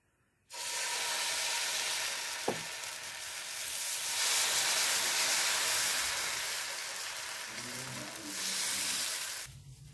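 Dosa batter sizzles on a hot pan, a steady close hiss that runs for several seconds and swells and fades, with a brief click near the start and soft clatter near the end.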